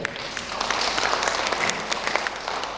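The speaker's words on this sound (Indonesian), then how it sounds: "Oke, tepuk tangan dulu ya." Seminar audience at a travel presentation claps on request, a dense, moderate wash of many hands with scattered sharper claps, continuous and somewhat distant.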